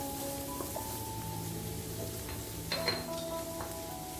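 Onions with salt sautéing in a pan for a vegetable curry, a steady low sizzle with occasional stirring clinks and utensil taps against the pan, close and moderately quiet.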